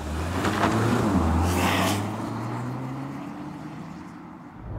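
A Porsche Macan T on the move, its engine drone steady and fairly close with a low harmonic tone that rises and falls slightly as speed changes, over road and wind noise throughout.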